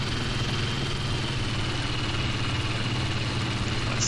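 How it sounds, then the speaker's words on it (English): A fighter plane's engine idles in a combat flight sim, a steady, loud low rumble with a constant throb that holds unbroken throughout. "Let's cut the engine off"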